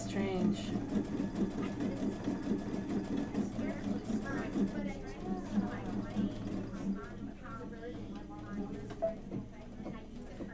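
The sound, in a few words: sewing machine stitching, failing to backstitch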